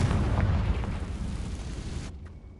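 A fiery Confringo spell blast in Hogwarts Legacy erupts as a deep, rumbling explosion that fades out over about two seconds, ending in near silence.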